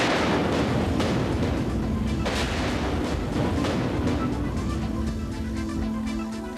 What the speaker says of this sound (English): Just look at the explosions in a controlled test